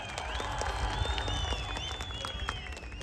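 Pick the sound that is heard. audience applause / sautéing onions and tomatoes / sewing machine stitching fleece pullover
audience applause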